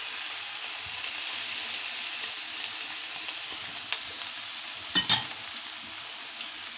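Chopped onion and garlic sizzling in mustard oil in a wok, a steady hiss throughout with a couple of sharp spatula scrapes near the end and no talking.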